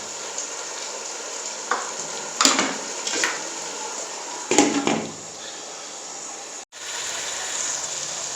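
Masala with tinda (round gourd) pieces sizzles and fries steadily in a pan, with a constant hiss broken by a few louder stirring scrapes and clatters.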